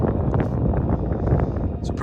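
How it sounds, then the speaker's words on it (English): Wind gusts buffet the microphone on an exposed mountain ridge above Levers Water, a loud low rumble with fluctuating roar and faint rustling, heard alone without speech. "but it's still windy."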